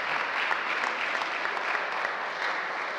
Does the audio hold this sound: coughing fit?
no